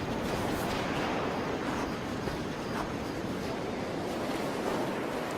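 Ocean waves break steadily on a long turtle nesting beach at Ostional, a continuous, fairly loud wash of surf with some wind noise, no voices.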